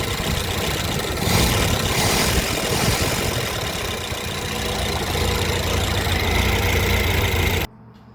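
A 1925 Ford Model T engine idles steadily up close, a loud, even mechanical chugging with rough low-end rumble that cuts off abruptly near the end.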